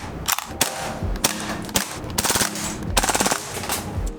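A gas-powered KWA Vector airsoft SMG fires several sharp, rapid bursts, each a tight rattling string of snappy pops with brief pauses between, close and fairly loud.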